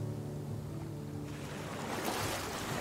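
Ocean waves washing against a sailing boat in the video game Stranded Sails, a steady broad surf roar that swells louder partway through, with no talking.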